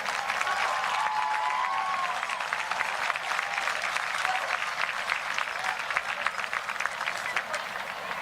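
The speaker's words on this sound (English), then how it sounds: "Can we please have a round of applause to our band seniors?" Stadium crowd at a high school football game applauding the band seniors, a steady dense wash of clapping held for the full stretch with a faint whistle early on.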